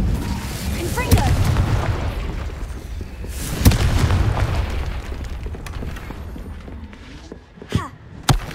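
Confringo explosive curse in the Hogwarts Legacy video game: repeated booming blasts with sharp cracking onsets, rumbling tails and scattered pops, loud and close, with a voice heard amid the explosions.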